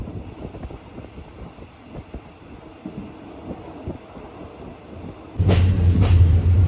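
A train in Thailand rumbles along with a dense, rattling clatter that swells into a louder, closer roar near the end, with no talking.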